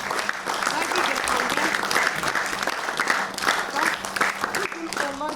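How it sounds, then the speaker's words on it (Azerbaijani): An audience in a hall applauds young performers after a memorial stage performance, steady clapping filling the whole stretch while a voice speaks over it. "Mən bu evlatlara sonsuz təşəkkür edib, onlara bir alqış istəyirəm sizdən."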